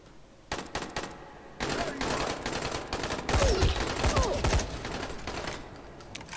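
Gunfire comes from an upper floor in Dying Light, a video game. The close, rattling bursts of shots grow denser and louder toward the middle, over steady game ambience.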